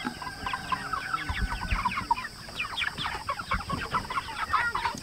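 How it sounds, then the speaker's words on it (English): Several chickens cluck and chatter continuously, busy overlapping calls from a flock nearby, with steady background noise. "Hello, chickens."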